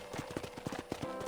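A horse's hooves clip-clop quickly and evenly at a walk in Red Dead Redemption, a close, muted rhythm of light thuds running steadily throughout.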